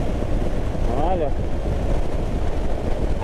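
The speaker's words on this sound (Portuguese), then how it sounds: "E tá ventando bastante." Strong wind buffets the microphone at the Palmas bridge on Praia da Graciosa, a constant loud low rumble throughout the short stretch, with a faint tonal sound briefly rising through it.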